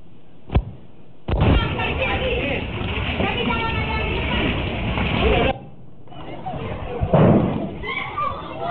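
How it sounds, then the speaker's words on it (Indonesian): An explosion rips through a fireworks warehouse at a factory building in Kosambi, Tangerang, heard as a sharp blast followed by a long roaring rumble, then another burst, with a news reporter talking over it. "sempat terdengar ledakan dari bangunan pabrik di Kecamatan Kosambi."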